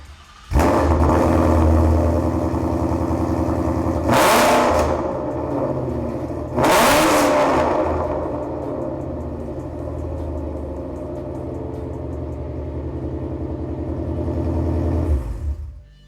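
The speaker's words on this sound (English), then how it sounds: "Now let's hear how they sound with no catalytics and their sport exhaust." A 2018 Ford Mustang GT V8 with Corsa long tube headers, no catalytic converters and a sport exhaust idles loudly up close, with two sharp throttle blips that roar and fall back into a rumbling, lumpy idle.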